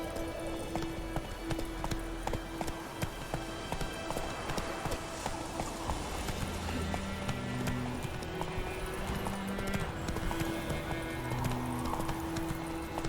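Roach, Geralt's horse in The Witcher 3 video game, gallops with a steady, fast rhythm of hoofbeats, close and continuous, over a game music bed, with no voices.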